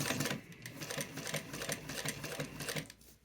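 Sewing machine stitching a tote bag seam, running steadily with a rapid mechanical needle rhythm throughout, close and fairly loud with brief slight slowdowns, no talking.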